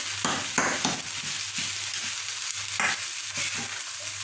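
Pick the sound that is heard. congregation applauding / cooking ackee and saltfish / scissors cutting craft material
cooking ackee and saltfish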